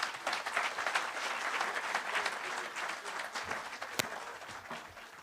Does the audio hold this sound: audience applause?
yes